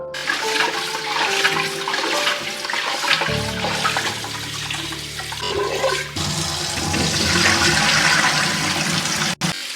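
Loud running water gushes and sloshes continuously as rice is rinsed, with a deeper surge midway as it churns and splashes, close up.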